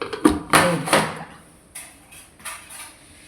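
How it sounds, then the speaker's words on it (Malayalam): A pressure cooker lid is closed over a cooked jackfruit dish, giving a few close metallic clunks and scrapes in quick succession, followed by softer rattles as it settles. "ഇനി കുക്കർ അടച്ച് വേവിച്ചെടുക്കാം."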